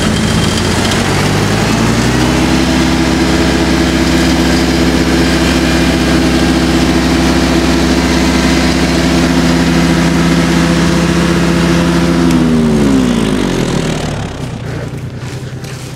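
A Caiman Edo 48YD diesel tracked snow blower runs with a loud, steady diesel drone for about twelve seconds, then winds down and fades.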